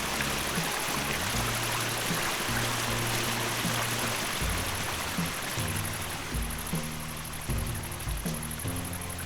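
The Musi River flows at Old Malkajgiri, where water from Hussain Sagar joins it, as a constant rushing stream heard beneath a low, shifting musical drone, with no one talking.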